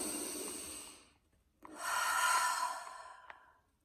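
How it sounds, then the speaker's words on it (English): One person takes a slow, deep breath in and lets it out in a long, audible sigh, close and quiet with no talking. "Now pause and take your big breath."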